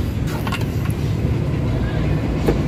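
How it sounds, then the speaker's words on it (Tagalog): A Suzuki Multicab engine, recently treated against a leaking head gasket, idles steadily after starting, giving a continuous low rumble close by with no clear speech over it. "sige, start natin yung makina guys"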